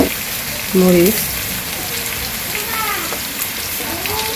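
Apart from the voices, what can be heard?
vegetables sautéing in a pan with turmeric, chili and salt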